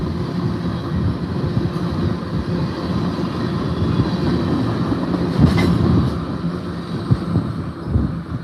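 A train rolls steadily through the Ottumwa, Iowa station with a continuous rumble and rhythmic clickety-clack of wheels on rail joints, fairly close, with occasional louder thumps and squeals.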